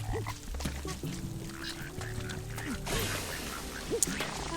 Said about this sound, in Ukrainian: Тікай, жаба.